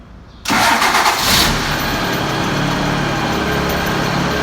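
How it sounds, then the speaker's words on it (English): A tractor engine cranks and catches after a short silence, roaring up loudly and then settling into a steady, close idle. "So Corey, please start the engine"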